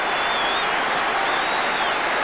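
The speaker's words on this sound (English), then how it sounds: "the Demon supporters are happy, but don't clap too soon" Crowd at VFL Park applauding and cheering during a 1988 VFL elimination final between Melbourne and West Coast, a dense, continuous wash of clapping heard steadily at a distance.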